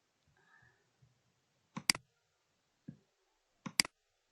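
Computer mouse clicks, two sharp double-clicks and a single softer click, close and distinct against near silence, with faint low murmurs at the start.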